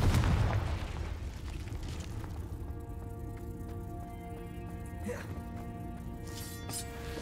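A Confringo fire spell explodes in Hogwarts Legacy, opening with a loud, deep boom that fades into a long rumbling, crackling tail, with a voice speaking over it partway through.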